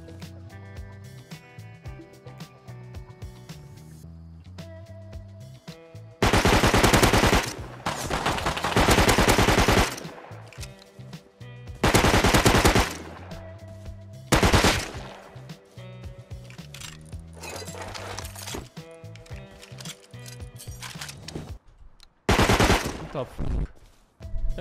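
Bursts of automatic gunfire from an online survival video game, several loud sustained volleys separated by gaps over game music and ambient sound.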